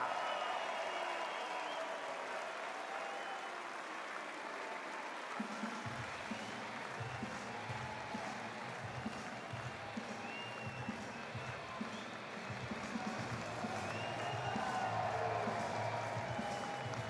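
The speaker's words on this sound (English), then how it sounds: "applaudir très fort et par encourager l'équipe d'Autriche" Large arena crowd at a STIHL Timbersports Team World Championship applauding and cheering for the Austrian team, a steady dense roar of clapping and shouts with a low rumbling layer joining partway through.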